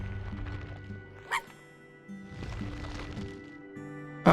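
Small dog Sparky in the game I Am Dead gives soft yips and whimpering barks, a few short calls spread across the moment over quiet game music, with a louder sound at the very end.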